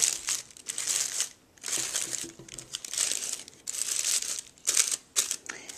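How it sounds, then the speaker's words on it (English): Tissue paper petals of a handmade paper flower party favor crinkle and rustle as they are fluffed out, in bursts of close, crisp crackling separated by brief pauses. "And then I'm going to fluff out the petals of the tissue paper"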